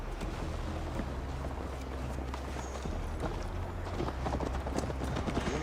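Horse hooves clip-clopping at a steady riding pace in the game Assassin's Creed Valhalla, under a low rumbling background of wind and ambience.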